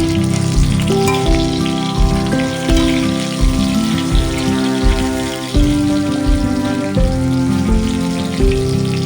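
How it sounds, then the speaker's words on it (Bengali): Soybean chunks fry in hot oil in a wok, making a loud, continuous sizzle and spatter that rises and falls in rhythmic pulses, with tonal sounds running alongside. "কড়াইতে তেল গরম করতে দিয়ে দিয়েছি। তারপরে একে একে দিয়ে দিচ্ছি সয়াবিনগুলো"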